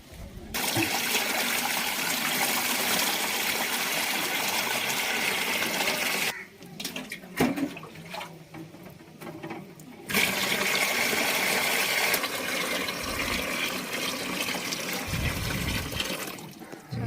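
Water poured into a household air cooler's tank, a steady close trickling and splashing that runs on for several seconds, dips briefly, then resumes.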